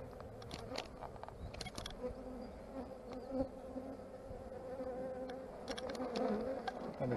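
Swarm of honey bees being captured from a pillar, a dense continuous buzzing of many bees close to the microphone with handling clicks and faint voices in the background.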